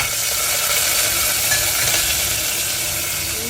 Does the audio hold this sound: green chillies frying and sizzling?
yes